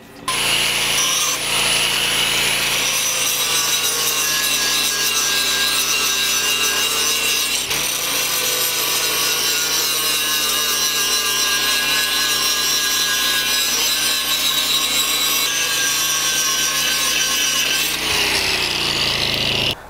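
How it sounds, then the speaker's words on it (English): A large angle grinder powered by a 3500-watt dual-fuel portable inverter generator, whining steadily at high speed with a rough grinding rasp, running continuously and close by for the full length. "Now I'll be testing the biggest angle grinder that I have in my shop."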